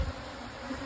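Honey bees buzzing around an open hive during an inspection, a steady, dense drone of many wings, close and fairly loud, with no voices.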